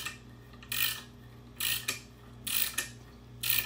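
A tap is turned by hand through a drill fixture bushing, cutting threads: four or five short, bright creaking and ratcheting bursts spaced about a second apart over a quiet background.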